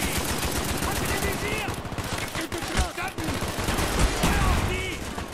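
Rapid automatic gunfire from the Call of Duty Black Ops video game, loud dense bursts of rattling shots overlapping for several seconds with a few heavier bangs, with a voice shouting briefly in the mix.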